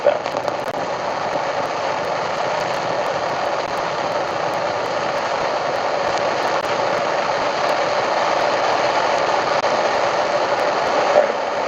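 Artemis moon rocket engines roar during a hot fire test, one engine flagged with a fault, as a dense, unbroken broadband rush that holds steady throughout.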